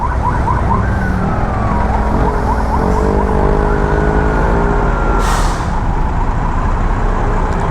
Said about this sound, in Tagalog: Kaya natin ambulansya yan.